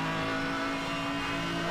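Loud, steady engine roar of a McLaren F1 in the racing game Need for Speed Hot Pursuit Remastered, a sustained high-revving drone with no talk over it.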